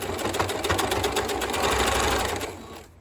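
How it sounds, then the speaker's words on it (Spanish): Sewing machine running steadily, stitching bias binding onto a baby's cloth diaper, loud and close with a rapid even stitch rhythm that winds down and stops near the end. "ahora pasamos a la máquina y le damos una costura de aquí a aquí."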